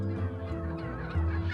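Female farm turkeys of about 8 to 10 kilos call together in a steady, close, honking chorus that carries without pause and with no voices over it.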